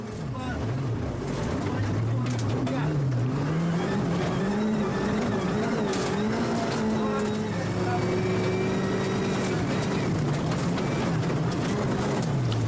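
Onboard a rally car on a gravel stage with melting snow and ice, its engine note rising and falling loudly through gear changes and revs while a commentator talks over it throughout.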